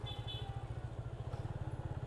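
A Yamaha FZ 25 250cc motorcycle engine thrums with a steady, even pulsing beat while riding, loud and close with no talk over it.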